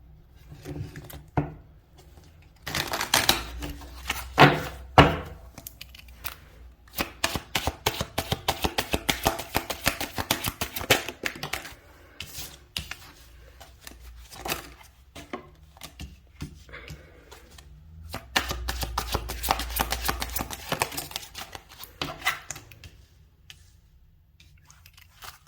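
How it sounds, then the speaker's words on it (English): Tarot cards being shuffled by hand, a run of crisp riffling and flicking bursts with short pauses between, two heavier shuffles standing out, close and moderately loud with no talk. "One more shuffle"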